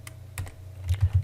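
A quick burst of keystrokes on a computer keyboard: several light, crisp clicks in an uneven rhythm, close and fairly quiet, with no voice over them.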